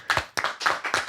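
Four sharp hand claps in an even rhythm, close and loud, with nothing else heard.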